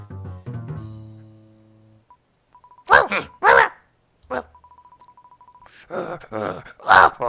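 A voice imitates a dog barking while dubbing the Undertale game, giving a few short, loud bark-like bursts separated by soft electronic beeping tones.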